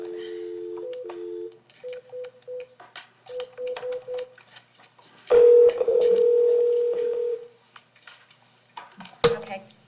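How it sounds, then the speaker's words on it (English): A courtroom telephone dials out to reach an interpreter. A string of short electronic keypad tones in uneven rhythm is followed by a longer steady dial tone, then a few clicks and handset knocks, all close and fairly loud. "Let's see if I can get the interpreter on the phone."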